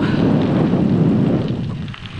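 Loud, rumbling gusts of wind buffeting close by in Tuscany, a continuous roar that eases slightly at the end.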